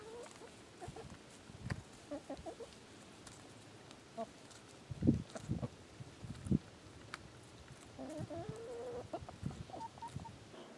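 Chickens cluck softly and intermittently in the background, scattered low calls over quiet outdoor ambience, with a few louder bursts midway.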